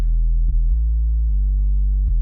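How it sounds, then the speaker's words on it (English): Simple bass melody from a slightly driven sine-wave sub synth, likely a Novation Peak, playing a few sustained, loud, smooth low notes with soft clicks at each note change and nothing else behind it. "It sounds slightly driven sine wave."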